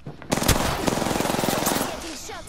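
A rapid machine-gun burst fired at the player in a video game, loud and close, rattling for about two seconds before trailing off with a short whine.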